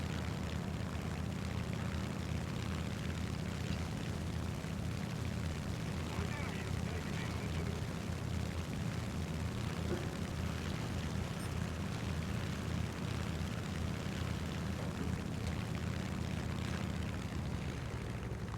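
A World War II Japanese propeller fighter in War Thunder drones on with a steady, loud engine while heavily shot up and coming in to land. The engine roar runs unbroken throughout.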